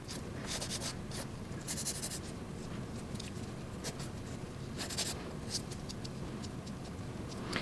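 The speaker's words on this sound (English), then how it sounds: "you can actually take like your file or something and just fine tune the edges in case any gel like seeped out on the sides" A nail file rubs along the edges of a gel press-on nail in short, faint scratchy strokes coming in irregular bursts, close and quiet over a low background hum.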